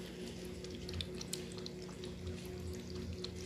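A small pet dog laps water indoors, giving soft rapid wet clicks and drips over a low steady background hum, faint and close.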